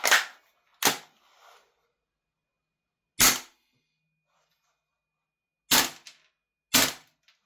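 Cyma CGS gas blowback airsoft rifle firing five sharp, isolated shots at irregular intervals, each a loud crack with brief action noise, close by with silence between.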